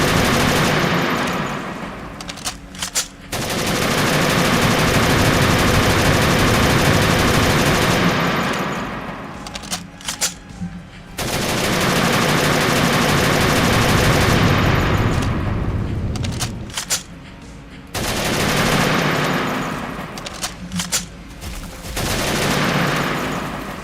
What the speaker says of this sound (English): Just try the AK on him a minute when he comes back in range.